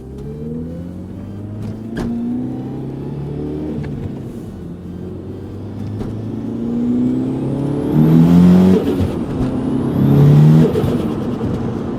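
A DSM car engine with a slipping clutch, revving in a steady drone that climbs and rises in pitch in long surges, heard from inside the car without talk.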